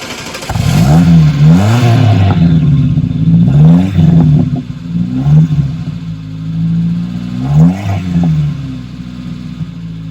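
A Nissan S-Cargo engine starts and runs close up, with a loud rising crank and catch followed by repeated revving swells and a lumpy idle, heard alone.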